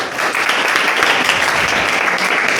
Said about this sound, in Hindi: इनके लिए एक जोरदार ताली आप लोग बजा दीजिए।